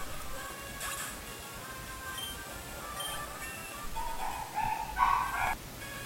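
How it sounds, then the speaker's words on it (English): A pet dog barks several times in a home during Pokemon Sapphire gameplay, with short yips and woofs bunching up toward the end over a steady background hum. "that was actually my dog barking"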